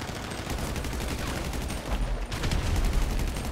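Gunfire from a Grand Theft Auto V firefight, dense rapid bursts of automatic weapons crackling continuously and loudly, with heavier booms toward the end and no voices over it.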